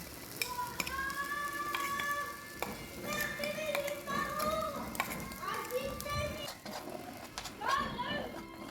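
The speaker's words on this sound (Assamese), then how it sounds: "এইখিনি এতিয়া মই ভালদৰে প্ৰায় 10 মিনিটমান লৰাই থাকিম, মানে ভাজি থাকিম ঘিউতে এইখিনি" Ginger paste sizzles in ghee with occasional stirring scrapes, while children's voices chatter and call out loudly over it.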